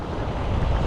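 Ocean surf washes onto the shore during shore-casting fishing for tuna: a brief, loud, steady wash of breaking water mixed with wind noise on the microphone, with no voices.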